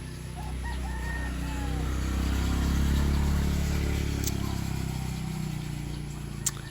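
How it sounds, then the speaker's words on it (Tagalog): Birds chirp and a rooster crows in the distance over a steady low outdoor rumble on a farm in the rain. "umaawit pa ang mga ibon."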